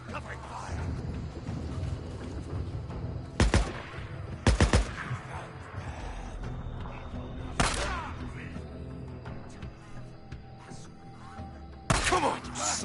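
Gunfire in the Days Gone video game, several sharp bursts of shots standing out over a steady, busy background of combat noise.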